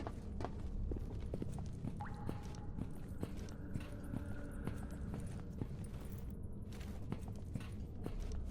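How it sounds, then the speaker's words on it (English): Footsteps in the Stalker Gamma video game thud in an irregular series of soft steps on a hard surface over a low ambient rumble, with a brief tone in the middle and no talking. "I do keep hearing footsteps, and I know for a fact they are not my own."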